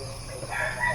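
A rooster crows in a garden, one short, loud call close by over faint outdoor background noise.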